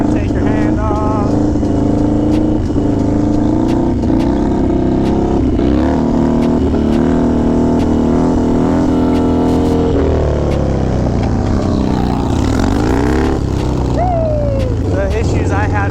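A Harley motorcycle engine revs and drones loudly during a wheelie, rising and falling in pitch with sharp throttle blips, close and steady throughout.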